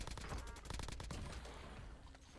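Rapid bursts of AK-74 assault rifle fire in a shooter video game, dense and loud at first, then easing into a fading rattle toward the end.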